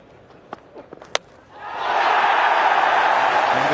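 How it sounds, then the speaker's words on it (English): A cricket crowd at Trent Bridge during an England–Australia Ashes Test erupts into loud, sustained cheering. A few sharp claps and shouts come first, then the roar swells and holds. "The England players go wild, as does the crowd here in Trent Bridge."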